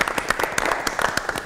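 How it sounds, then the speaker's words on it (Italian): Studio audience applause on an Italian television talk show: a short burst of brisk, dense hand clapping, fairly loud and close. "Dai, facciamo un applauso ai fanti"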